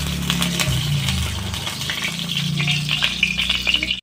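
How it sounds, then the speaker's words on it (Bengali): Mustard oil heating in a hot wok gives a steady, fine crackling sizzle with scattered small pops. It runs continuously with low background rumble and ends abruptly. "এখন সরষের তেলটা কড়াইতে দিয়ে দেবো।"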